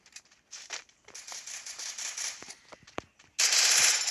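Gunfire in the mobile shooter game Free Fire comes in repeated rapid bursts and single cracks, with bright, crackling reports and a dense, sustained volley at the end.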